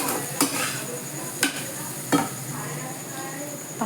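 Pasta masala stirred through in a pan over low heat: a soft continuous sizzle broken by three or four sharp clinks of a utensil against the metal.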